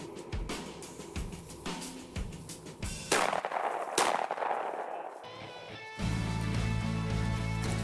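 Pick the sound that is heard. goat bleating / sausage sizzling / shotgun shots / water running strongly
shotgun shots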